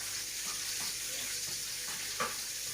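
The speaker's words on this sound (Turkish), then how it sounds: "Bu böyle 5 dakika kadar kavuracağız bunu." Food sautéed in a pan on low heat gives a steady, even sizzle close by, broken by a few soft scrapes and one sharper clink as it is stirred.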